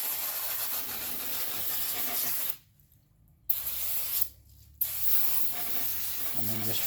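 Brake cleaner sprayed in a steady, loud hiss onto Jeep TJ engine parts, broken by two short pauses before the spray resumes.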